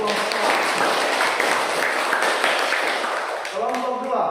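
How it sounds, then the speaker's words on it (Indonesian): A classroom audience gives group 1 a round of applause after their presentation, a dense, steady clapping that fades slightly, with a voice emerging near the end. "Sekali lagi juga berikan aplaus untuk kelompok"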